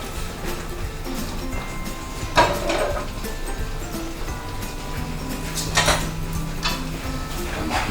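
Pasta is tossed and mixed into a spinach sauce in a pan, with soft wet stirring, scraping and a few sharper clanks of utensil on pan, close and steady.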